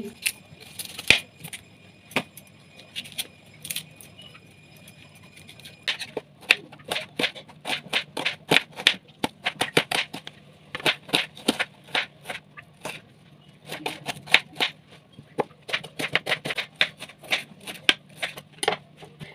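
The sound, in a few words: onion being chopped with a knife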